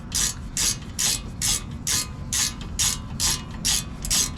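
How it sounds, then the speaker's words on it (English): Ratchet backing out 7 mm Allen bolts on a 2006 VW Passat wheel bearing, with about ten quick, even bursts of sharp pawl clicking, close and loud. "You just stick it in there, grab your ratchet."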